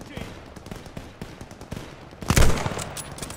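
Machine gun fire in the Call of Duty Vanguard campaign: rapid bursts of automatic shots crackle throughout, swelling to a loud, dense volley midway, with shouted voices mixed in.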